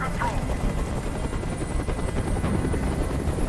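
A hovering helicopter in Detroit: Become Human gives a loud, constant rotor drone that fills the whole moment without break.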